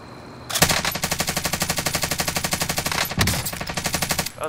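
Rapid automatic gunfire in Call of Duty: Warzone, a loud sustained burst of evenly spaced shots, a brief pause, then another steady burst, with no talking.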